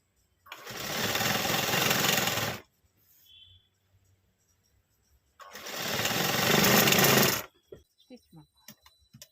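A sewing machine stitches old cloth pieces in two close, loud bursts of fast whirring, each about two seconds long and separated by a quiet pause, followed by a few faint clicks of handling.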